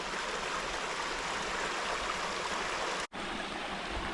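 A mountain spring creek on an off-grid property flows in a steady, full broadband rush of water, close and constant, with one brief cut to silence near the end and no talk.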